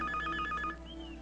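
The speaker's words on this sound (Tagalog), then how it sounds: "Telepono po." A telephone bell ringing indoors in a Tagalog action film scene, a short burst of rapid trilling rings that cuts off after under a second, loud and close.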